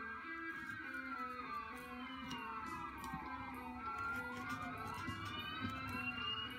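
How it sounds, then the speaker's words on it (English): An ambulance siren wails with sweeping, overlapping tones over steady background noise, holding at a fairly constant level rather than clearly fading past. "Love the ambulance. It's a real ambulance, guys"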